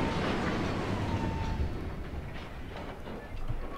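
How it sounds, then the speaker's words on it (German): An empty train pulls out of a station in a railway simulation on the Salzburg to Wels line, a loud steady rumble of wheels and rolling stock with faint clicking over the track joints, gradually easing off. "Der sollte auch relativ schnell aus dem Bahnhof ausfahren und uns dann die Strecke freimachen."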